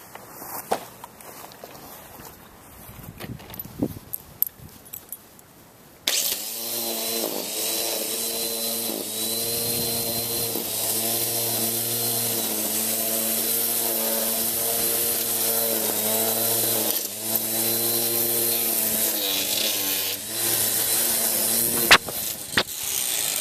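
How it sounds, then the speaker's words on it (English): A lawn trimmer starts after some quiet rustling and footsteps, then runs loud and close for the rest of the time, its engine revving in a steady pulsing rhythm with brief dips as it cuts tall grass against a shed. "You can see that tall grass up against my shed. We're going to trim that down."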